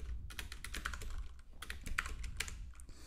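Rapid typing on a computer keyboard, a quick irregular run of crisp clicks and clacks close up, with a short pause midway and no voices.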